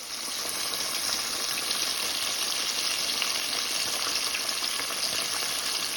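Steady, dense sizzling and crackling of chicken frying in a hot pan, continuous and fairly loud with no talking.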